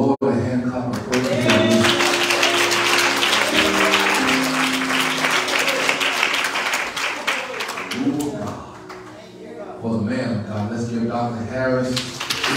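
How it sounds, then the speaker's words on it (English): A church congregation at a homecoming service claps in praise, brisk sharp hand claps layered over sustained organ or keyboard chords, with a voice speaking through parts of it. "let's give the Lord a hand clap of praise"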